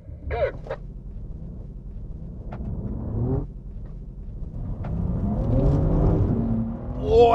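A high-performance sedan launches from a standstill on a wet track, its engine rising in a strained rumble as the wheels spin despite traction control, with a gasping voice and the engine building louder toward the end.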